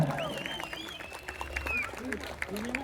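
Audience applause at a political party stage event, a busy patter of clapping mixed with crowd noise while a voice speaks over it.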